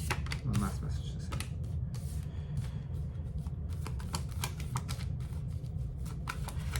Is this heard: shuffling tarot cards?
yes